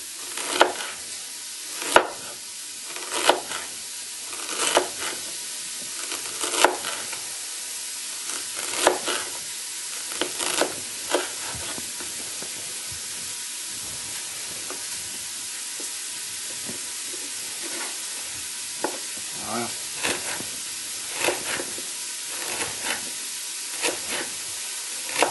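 Chicken and black mushrooms brown gently in a pan, giving a soft continuous sizzle and hiss broken by periodic louder scraping stirs, with no talk over it.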